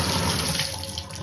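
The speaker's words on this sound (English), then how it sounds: "the water's running" Water running from a MOEN shower faucet during a cartridge replacement, a steady close rush that eases slightly over about a second.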